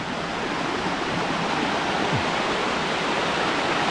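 Gabur Gabur Falls in Peñablanca, Cagayan pours with a loud, steady rush of water, a constant broadband roar that carries unbroken from start to finish with no voices.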